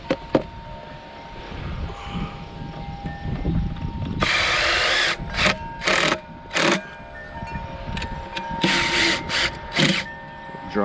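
A power drill drives screws into lumber while building a horizontal beehive, with several short, loud bursts of whirring, one long run followed by quicker spurts, close by over a quiet background.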